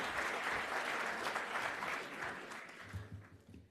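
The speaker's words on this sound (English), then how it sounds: "Can we please give them another round of applause?" Conference audience at an African hydrogen summit applauding steadily, a dense wash of many hands that eases off toward the end as a few low murmurs come through.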